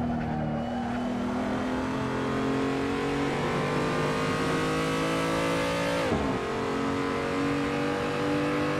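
A BMW M235i engine in Assetto Corsa at the Nurburgring holds a loud, continuous drone with steadily rising pitch, then a sharp drop and recovery as a gear change comes, under faint tire noise.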